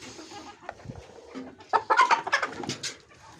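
Backyard chickens cluck and squawk in a small flock while being fed rice, a burst of overlapping calls building up near the mic after a quieter start.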